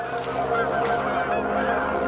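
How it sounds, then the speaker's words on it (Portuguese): Geese honk repeatedly in a loud, close flock, their nasal calls overlapping in a steady chorus. "Alguns sugerem que foram gansos."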